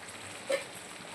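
Butter chicken gravy bubbles in a pan on a gas stove, a soft steady simmering hiss with one small pop, quiet and close, no talk.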